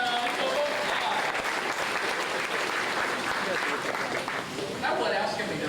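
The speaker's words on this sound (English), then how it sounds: "Give her a big round of applause." Dense, sustained audience applause from a large crowd at a Disney show, filling the whole stretch at a steady level with a thick wash of overlapping claps.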